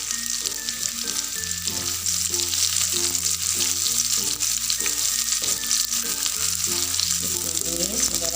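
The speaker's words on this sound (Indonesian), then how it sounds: "ditumis hingga layu bawang bombaynya" Sliced onion sautéing in a pan while cooking Padang-sauce shrimp, a steady close sizzle and crackle throughout, heard under background music with no talking.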